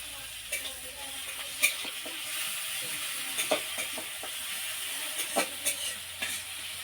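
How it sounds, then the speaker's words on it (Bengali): Chopped onion and garlic frying in hot oil in a pan, a soft continuous sizzle punctuated by several sharp spatters and stirring scrapes, close and fairly quiet with no talking. "গরম হয়ে গেছে দিয়ে দিন পেঁয়াজ কুচি আমি। রসুন কুচি"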